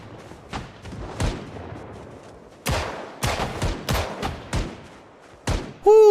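Enemy gunshots in Project Zomboid crack out irregularly, about a dozen sharp reports spaced unevenly, some clustered in quick pairs, fairly close and loud against quiet background.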